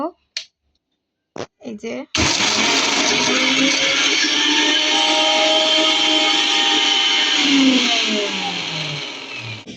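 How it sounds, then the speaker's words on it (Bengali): A few brief clicks, then an electric blender whirs up loudly and runs steadily, its motor pitch dipping slightly near the end before it stops. "তো এবার আমরা ব্লেন্ডার করে নেব।"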